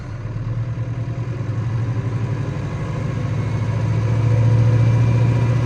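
A tractor engine, set for a Vertidrain aerator, holds a steady low drone that climbs gently as the revs are raised to about 490–500, running continuously and close with no talk over it.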